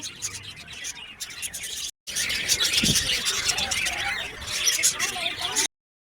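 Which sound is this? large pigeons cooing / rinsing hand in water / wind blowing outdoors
large pigeons cooing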